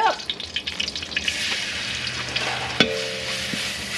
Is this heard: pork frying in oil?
yes